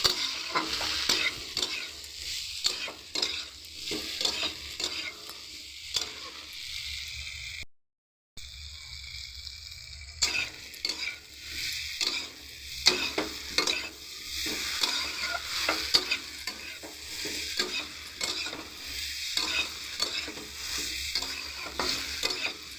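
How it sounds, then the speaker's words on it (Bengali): Boiled soybean chunks and potato being stir-fried with spices in a pan: a continuous loud sizzle broken by repeated rhythmic scraping strokes of a spatula, close up, with a brief gap midway. "ভালো করে একটু কষিয়ে নিই সব মশলার সাথে"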